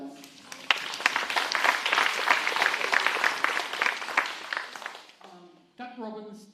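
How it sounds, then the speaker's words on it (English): An audience at an outdoor staging of Shakespeare's Richard III claps in a dense burst of applause that fades after about five seconds, then a voice begins speaking. "give yourself a round of applause."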